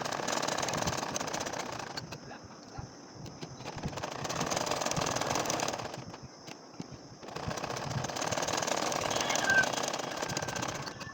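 A machine sews a nakshi kantha quilt design in three rapid, buzzing stitching runs separated by short quieter pauses. The sound is close and steady, with no speech.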